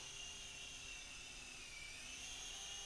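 A Sky Rover toy RC helicopter flies steadily, its high whining motor and rotor buzz continuous and close, with no voices.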